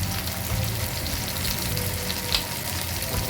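Chopped onion and garlic fry in hot oil with a dense, close, crackling sizzle and occasional stirring scrapes, holding steady and fairly loud throughout.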